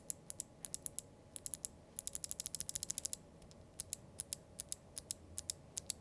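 A Machenike K600 mechanical keyboard with clicky, swappable switches is typed on, crisp sharp clicks in irregular bursts, close but quiet over a low background hum.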